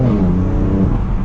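A stock BMW F80 M3 CS with its turbocharged engine accelerates hard, a loud, close, rising engine drone with a steady whir, heard alone without talk.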